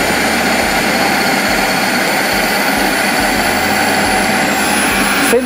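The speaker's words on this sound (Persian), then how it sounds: "فلفل و گوجه فرنگی با هم خوب چرخ میشن با پیازچه" A food processor grinds peppers, tomatoes and scallions together in a loud, steady, continuous whirring roar that fills the whole stretch without a break.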